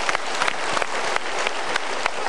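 Studio audience applause on an Indonesian motivational talk show, a steady wash of many hands clapping at moderate level, continuous without talk.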